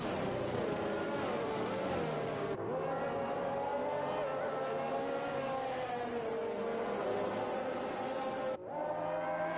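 Race cars in the F1 2021 video game at the Great Britain round drive behind a safety car, a continuous loud engine drone with pitch rising and falling through gear changes and one abrupt shift.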